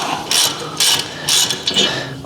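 Close, loud bursts of ratchet clicking in four short runs with brief pauses as a caliper carrier bolt is removed from a Fiat Ducato motorhome van during a brake pad and disc replacement.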